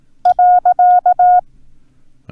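Morse code period sent iambically as a crisp electronic tone, six quick alternating short and long beeps in a tight rhythm, loud and close, followed by quiet.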